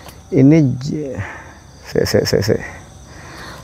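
Crickets chirp in a forest at night in short, rhythmic bursts, with a voice speaking briefly before them and a humming, melodic voice also present.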